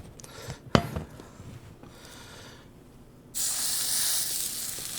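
A burger patty sears in a hot pan coated with grape seed oil, giving a steady hiss with a sharp crackle early on, then a louder, brighter sizzle swells near the end.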